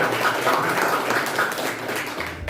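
A classroom of students claps together during an Islamic religious education lesson, a brief burst of dense, even applause at close range that fades near the end.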